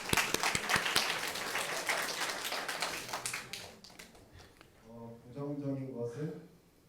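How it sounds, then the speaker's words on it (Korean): Church congregation clapping during a Sunday afternoon service, a burst of applause that fades after a few seconds, followed by someone speaking. "네, 박수"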